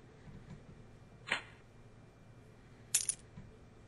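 A card discarded in the Battle Cards video game gives two short bright chime-like effects about a second and a half apart, alone over a quiet background.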